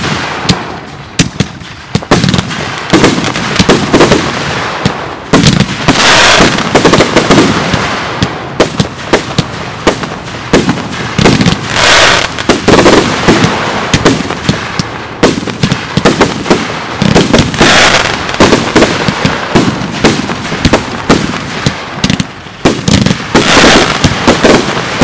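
A Fourth of July fireworks show firing nonstop, with dense, loud crackles and bangs overlapping across the whole stretch and no gaps, heard alone with no talk.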